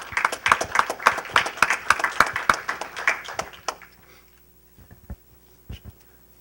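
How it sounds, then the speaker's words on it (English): A small audience claps for a speaker being called to a podium, brisk and close for about four seconds before it tapers off into a few scattered claps and quiet room noise. "let's give him a round of applause."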